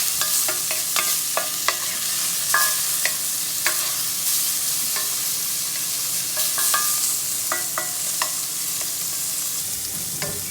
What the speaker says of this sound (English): There's that nice sizzle we're always looking for.